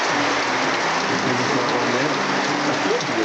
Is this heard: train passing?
no